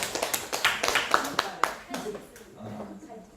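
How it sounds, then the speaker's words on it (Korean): Hands clap in a loose burst of scattered, sharp claps that thin out and fade within a couple of seconds at a Korean biblical theology seminary testimony gathering, with voices talking over and after it. "자 시작 박수 김선님."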